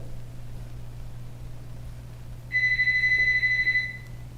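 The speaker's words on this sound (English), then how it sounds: "And I don't care about that buzzer." A speaking-time buzzer at a school board meeting sounds as a steady electronic tone lasting about a second and a half, alone over a low hum of room noise.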